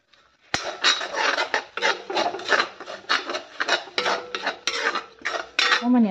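Spices and potatoes are stirred while frying in a pan, a spoon scraping and clattering against the metal in uneven bursts up close, with a sizzling undertone and no talking.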